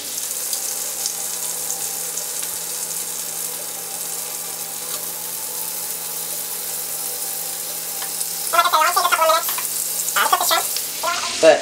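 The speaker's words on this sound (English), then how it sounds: "we're going to put our shrimp down" Blackened Cajun shrimp sear in a pan with a steady, even sizzle throughout; near the end, brief clattering bursts of movement break through the frying.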